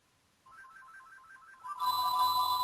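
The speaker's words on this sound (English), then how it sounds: "My phone was ringing." A telephone ringtone plays a repeating warbling melody, starting softly and then swelling into a louder, fuller ring, with no talking over it.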